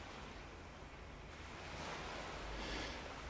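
Water in the Fallout video game gives a steady rushing wash like surf or flowing water, loud and continuous, swelling slightly toward the end with no voices.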